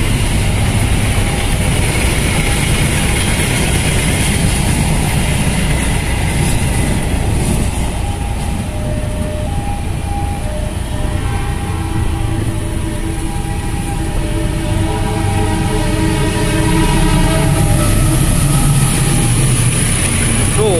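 The Argo Sindoro passenger train passes along Jl. Bhayangkara in Cikarang with a loud, continuous rumble of wheels and engine, and drawn-out horn tones sound over the second half.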